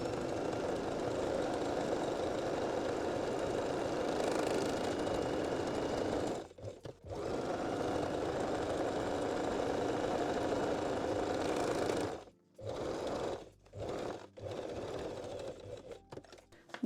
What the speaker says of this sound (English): Then stitch the elastic edges. I'm using just a zigzag stitch.